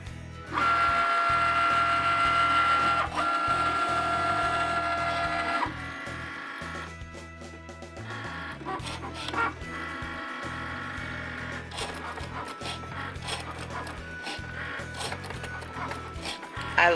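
A Cricut cutting machine cutting black vinyl letters gives a steady mechanical whir with rhythmic carriage movements and clicks. The sound is close and continuous, with a louder stretch at the start.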